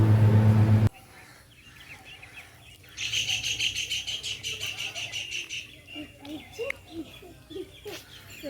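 Small sparrows chirp near a family temple, with a dense flurry of quick, high, overlapping tweets starting a few seconds in and continuing as scattered calls over faint background murmur.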